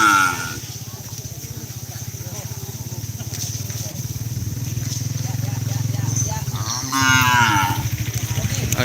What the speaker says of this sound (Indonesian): ada sapi-sapi kecil guys